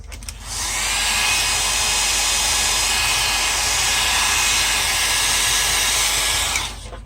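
A handheld dryer blows steadily on alcohol ink inside a mason jar, a loud, close, even whooshing hum that starts abruptly, runs about six seconds and cuts off, with no talking.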